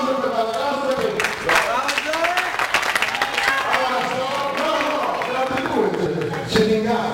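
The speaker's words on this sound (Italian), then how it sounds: "Ma applauso per la ragazza che..." Crowd applause and scattered clapping at a girls' hockey session in Legnaro, steady and lively throughout, with people talking over it.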